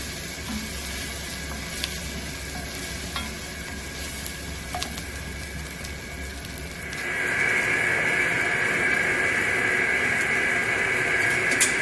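A pepper roasting directly over an open flame as it is turned to char all sides, a steady hiss and crackle of burning skin that grows louder and brighter partway through.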